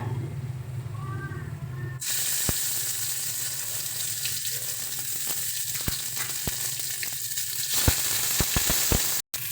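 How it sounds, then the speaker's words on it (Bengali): Green chilli and ginger paste hits hot oil in a pan and breaks into a loud, steady sizzle that holds for several seconds, with a few sharp pops and spits over the hiss. "এবার এর মধ্যে দিয়ে দিচ্ছি কাঁচা লঙ্কা বাটা,"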